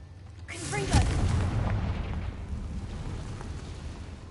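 A Confringo blasting spell cast in the game Hogwarts Legacy, a sudden booming burst followed by a rumbling, crackling decay that fades over a few seconds.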